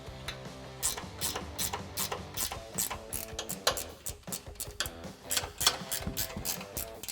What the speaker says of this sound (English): grab your 15mm wrench and tighten down the 3 nuts at the top of your strut tower